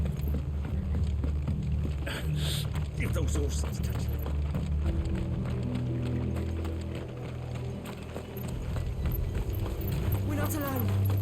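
Rapid galloping horse hoofbeats in the video game Final Fantasy XVI pound continuously beneath a rumbling background, with voices speaking over the clatter.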